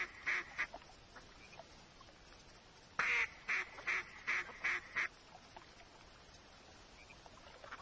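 Ducks in the hunting game theHunter quack in a burst of about eight short calls, fairly faint, over a soft outdoor ambience with no talking.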